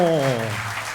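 A concert audience applauds a wind band and singers, a broad crackling wash of clapping under a loud voice speaking over it throughout the short moment.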